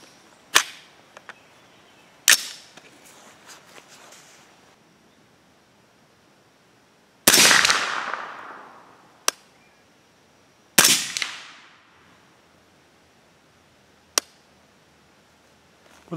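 Suppressed-style .300 Blackout rifle with an 8.5-inch barrel firing Lapua 200-grain FMJBT subsonic handloads over Winchester 296: six sharp shots spaced irregularly, a few followed by a long loud rushing decay.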